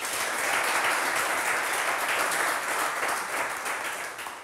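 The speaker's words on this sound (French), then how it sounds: "Merci de les applaudir." Audience applause for game show contestants, a dense, steady wash of clapping that stays loud throughout and tapers slightly at the end, with no voices over it.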